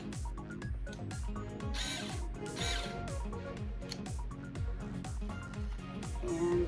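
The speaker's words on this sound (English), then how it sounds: "I'm going to take my cordless screwdriver, make sure that it is in the forward position" A cordless screwdriver in forward drive tightens a screw on a handmade pink glass garden flower with an orb, giving a steady close mechanical whir with a rapid ratcheting pulse throughout.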